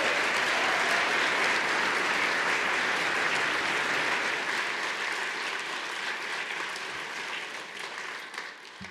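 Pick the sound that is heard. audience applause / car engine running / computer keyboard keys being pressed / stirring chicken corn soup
audience applause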